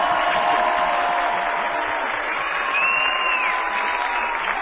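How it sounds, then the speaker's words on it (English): Audience applause for Governor Howard Dean at a political speaking event, a broad, steady wash of clapping that holds evenly at full strength across the whole stretch. "Let's give a great round of applause to Governor Howard Dean."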